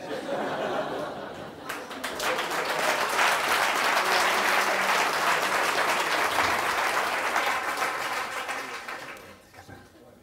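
A live audience at a talk breaks into loud sustained applause with a few laughs mixed in, swelling quickly and fading out after several seconds.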